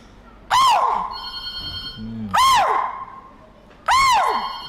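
A voice imitates a deer's alarm call: three loud, sharp, rising-and-falling shrill cries spaced a couple of seconds apart over background noise.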